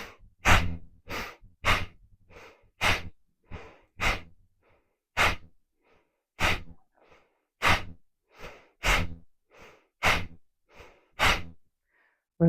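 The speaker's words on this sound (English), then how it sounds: "Let your breath out." Forceful exhales during a yoga exercise, about twenty sharp breaths out in a quick regular rhythm with short pauses between, close and clear against silence.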